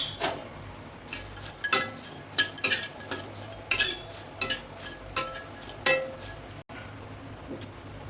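Whole spices such as stone flower being dry-roasted and stirred in a pan for a homemade onion-garlic masala, giving repeated close scraping and clinking strikes of a utensil against the metal in an irregular rhythm.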